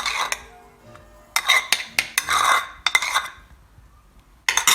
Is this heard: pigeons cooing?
no